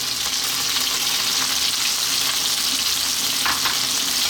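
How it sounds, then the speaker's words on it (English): Onion frying in hot oil alongside browning lamb pieces on high heat for a lamb curry, a loud dense continuous sizzle with a few soft stirring bumps, close up and free of speech. "I'm just going to add a little bit more oil, and to that I'm going to drop in our onion"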